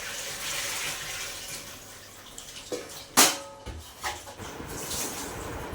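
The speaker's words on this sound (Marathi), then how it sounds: "भांडे धुवून घेते" Running tap water splashing as a pot is washed in a home kitchen sink, a steady close wash with a few sharp clanks of the pot against the sink.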